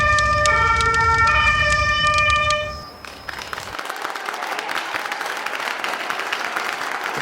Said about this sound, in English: Applause breaks out.